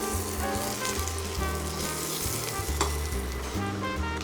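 Onions sizzle steadily in a pan for cream of celery soup, salted as they cook, with a constant crackling fry and occasional stirring scrapes, close and moderately loud with no voices.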